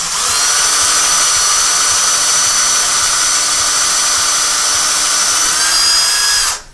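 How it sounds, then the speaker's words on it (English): A power drill boring slowly into a wooden beam behind a wall beside a window, a loud, steady whine that holds for several seconds and cuts off sharply at the end, with no voices. "We know we're drilling into a beam."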